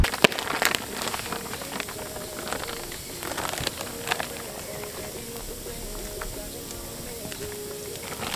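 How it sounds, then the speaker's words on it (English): Rain falls steadily on a woodland camp under a canopy, a dense patter of drops with a few sharper taps near the start, continuing evenly throughout with no talk. "as you can hear, the rain's proper coming in now."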